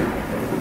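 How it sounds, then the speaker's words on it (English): Thunder rumbles low and continuous during a storm, with rain noise blended in, a short dull roll heard alone at moderate level. "well, it's really storming here. I don't know if you can hear it"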